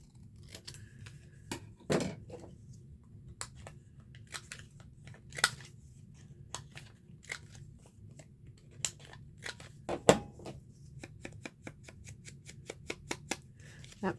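Scissors snip through paper while making a purple journal, a series of crisp, close cuts in irregular bursts with louder snaps now and then over a quiet background.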